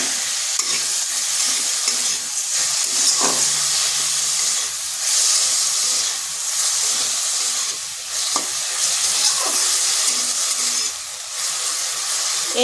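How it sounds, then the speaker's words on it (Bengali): Cut potatoes with a pinch of salt and turmeric, fried in a pan without water over slow to medium heat, sizzle and hiss steadily while being stirred, with occasional scraping knocks from the spoon throughout. "এইভাবে নেড়ে চেড়ে আলুটা একটু ভাজা ভাজা করে নেব।"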